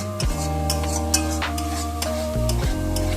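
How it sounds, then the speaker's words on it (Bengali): Green peas being stirred and fried with spices in a pan, a steady close sizzle with scraping stirs and a few light clinks throughout. "এবার এখানে মটরশুঁটিটা অ্যাড করে দিচ্ছি ভালো করে নেড়ে চেড়ে আবার দুই থেকে তিন মিনিট কষে নিতে হবে"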